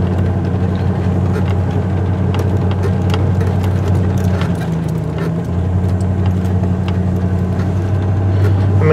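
Ford Bronco in high-range 4x4 driving up through soft sand, with a steady loud engine drone and low rumble throughout, nearby and continuous, no talk.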